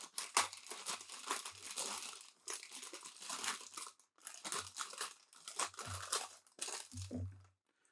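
Crinkling, crunching plastic packaging being cut and pulled apart to free an anime figure of Albedo from Overlord, close and quiet, in irregular bursts of crackling with brief pauses between.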